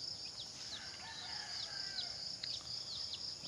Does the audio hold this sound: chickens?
yes